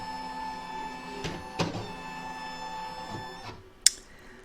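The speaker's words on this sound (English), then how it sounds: "This is going to calibrate the arm that moves your embroidery hoop" A Brother embroidery machine calibrates, its embroidery arm carriage moving with a steady mechanical whir and hum, broken by a few soft clicks and a sharp tick near the end.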